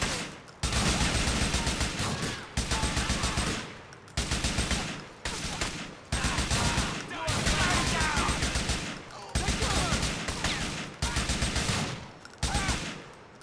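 Loud automatic gunfire keeps rattling in sustained bursts, broken by brief pauses, during a firefight in the video game GTA IV.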